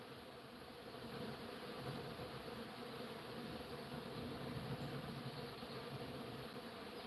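Honeybees gathered in numbers hum in a steady, faint, continuous drone with no pauses and no voices.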